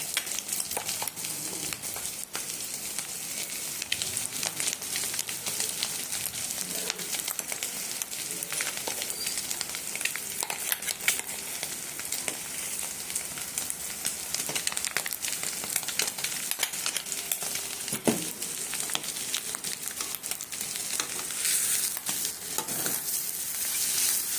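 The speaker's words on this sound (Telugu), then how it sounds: "ఇప్పుడు ఉల్లిపాయ కారం వేస్తాను." Onion and chili powder frying in a hot pan while being stirred, a steady soft sizzle with frequent scraping clicks of the spoon, close and continuous with no talk.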